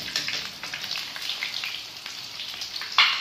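Potato egg lollipops fry in hot oil over a medium flame, giving a steady, close crackling sizzle with bright spattering pops throughout and a sharper burst near the end.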